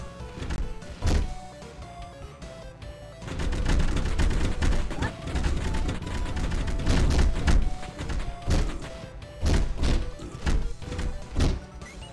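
Magnum revolver fire in the game Dead Estate: repeated heavy thumping shots, some spaced and some clustered, over a dense, continuous game soundtrack, with loud impacts running through the whole stretch.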